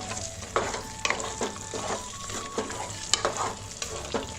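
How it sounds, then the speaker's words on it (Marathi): Chicken masala spices with chilli powder, turmeric and coriander powder sizzle in oil in a pan for Agri-style chicken curry while a spoon stirs and scrapes in repeated strokes, close and fairly quiet. "मसाले आपण असे हलवून घेऊया मसाले सर्व"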